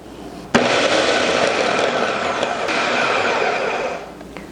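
A food processor whirs loudly and steadily for a few seconds, cutting butter into pie dough for a lemon meringue pie, starting abruptly and stopping with a brief tail.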